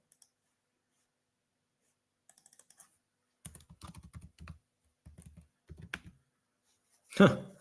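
Someone types on a computer keyboard in a quiet room, with a brief burst of faint clicks followed by several short runs of keystrokes and a louder knock at the end.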